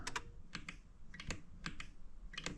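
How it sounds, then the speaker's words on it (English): Clicking relay in the cab of a Bobcat 751 skid-steer during a glow-plug start attempt: a series of sharp, fairly faint clicks in loose pairs, spaced about half a second apart, over low background noise. "I can hear the relay clicking back there."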